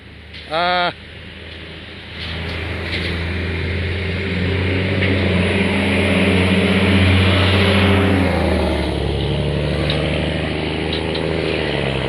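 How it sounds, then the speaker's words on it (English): A heavy tow truck engine at a rollover accident scene rumbles and revs steadily as the truck drives forward, building in loudness and holding a deep growl, after a brief high electronic chirp at the start. "they're driving the tow truck"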